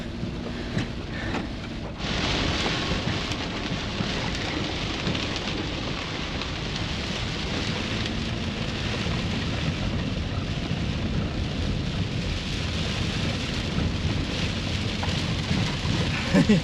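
Heavy rain with thunder during a summer downpour of about 20 mm over farm fields: after a short quieter start, a dense, steady hiss of rain sets in with low rumbles underneath and no voices.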